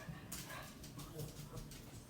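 A dog whines and yips indoors in faint, brief bursts, low in the mix beneath a steady background.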